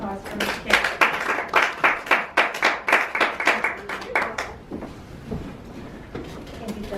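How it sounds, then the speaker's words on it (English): Audience at a Toastmasters club meeting clapping in applause, a burst of several seconds of brisk claps that fades out toward the end, fairly close and clear. "So everyone, please give a round of applause for Miss Carrie."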